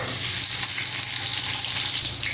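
Finely chopped capsicum sizzles loudly and steadily in hot oil for vegetable fried rice, a continuous crackling hiss close by with no talking.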